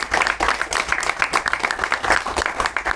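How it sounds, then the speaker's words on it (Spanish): A seated audience at a tribute event for a poet applauds, a dense, lively burst of many hands clapping close by, steady over a few seconds. "Primero aplaudamos"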